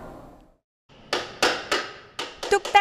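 Hammer blows ring out in a furniture-making workshop, about seven sharp strikes that come faster toward the end, following a quiet start with faint background noise.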